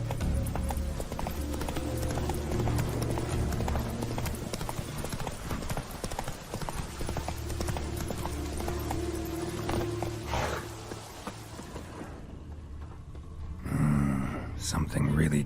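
The horse Roach gallops in The Witcher 3: Wild Hunt, a driving, continuous clip-clop of hooves under game music and ambience, close and steady before cutting out near the end as other game sounds take over.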